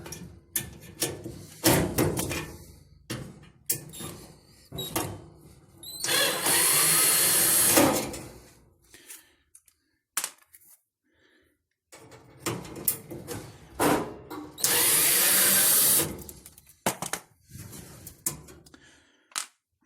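A power drill backs screws out of a Samsung dryer cabinet during a heating element replacement, with two long, loud whirring runs separated by clicks, clatter and handling noises close by.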